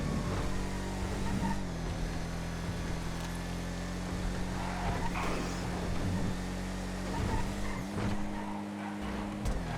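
A 2018 car racing in GTA V, its engine droning and revving steadily throughout with tire squeals, game race sounds mixed close and loud, no speech.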